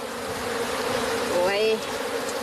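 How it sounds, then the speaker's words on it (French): Honeybees swarming around beehives in a mangrove at Joal, a dense continuous buzz close to the microphone with one bee flying past and rising in pitch midway. "beaucoup de gens savent maintenant qu'il y a beaucoup d'abeilles dans la mangrove"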